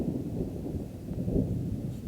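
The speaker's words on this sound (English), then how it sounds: "Apparently there's some thunderstorms moving in" Distant thunder from an approaching thunderstorm on the Colorado Trail rolls as a low, steady rumble, faint and far away below tree line in the forest.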